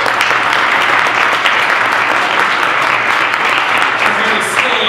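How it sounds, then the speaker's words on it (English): A large audience at a wireless repair industry expo keynote claps in a loud, steady round of applause, a thick continuous roar of many hands filling the whole stretch. "Can we get a round of applause for Michelle?"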